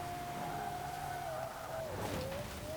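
Lexus IS F (2009) with a swapped LFA V10 engine in Forza Horizon 4, a steady high engine whine that shifts pitch and dips as revs drop near the end.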